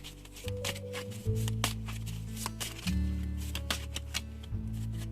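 Tarot cards are handled and shuffled at close range, giving soft papery flicks and slides over a steady low background tone, with no speech.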